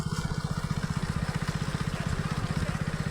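A motorcycle at a village ground race competition gives a fast, even engine throb with regular pulses throughout, moderately close and steady in loudness.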